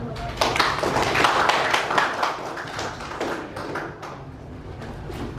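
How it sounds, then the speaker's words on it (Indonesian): Participants at a public-speaking training session clap together, a bright burst of many hands that swells early, then thins and tapers away over several seconds, fairly near and moderately loud. "Terima kasih, tepuk tangan."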